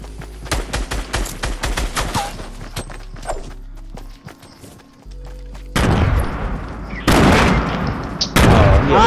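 Grenade explosions and bursts of gunfire in the video game Fortnite: a string of sharp rapid shots, a brief quieter gap, then loud heavy blasts and rumbling booms.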